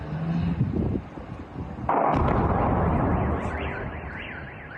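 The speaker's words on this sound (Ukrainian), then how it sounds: "Ща буде взрыв. Раз, два, три." A loud, sustained roar of an explosion in Engels, Russia, bursts in after a quieter rumbling stretch, with a wavering siren-like wail over it.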